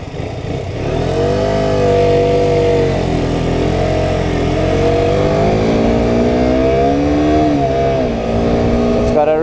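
A KTM RC125 motorcycle engine revs steadily while riding on tarmac, a close, loud buzzing drone that rises and falls with throttle changes, with a rider talking over it.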